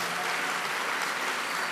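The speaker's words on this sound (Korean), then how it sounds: "다시 한번 큰 박수 부탁드리겠습니다" A crowd applauds at an evening worship service of a church summer camp, a dense, steady wash of clapping hands that carries evenly through the whole moment without pause.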